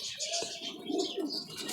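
A blue pigeon, its eye rimmed in blue, coos softly a few times amid faint chirps from other birds in a loft, with a little background noise around it.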